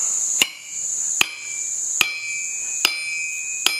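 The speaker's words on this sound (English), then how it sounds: "I'm not hitting this really hard on the anvil" Hammer blows drive a shaft into a pipe resting on an anvil while a biochar crusher is being built: five evenly spaced, moderately loud metallic strikes, each ringing briefly with a bright tone, and no talking.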